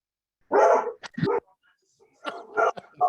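A dog barks in a few sharp bursts close by, with quiet gaps between, during a board meeting held over a call.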